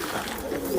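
A golden pigeon gives a short, low coo at close range, a soft steady murmur with no talking.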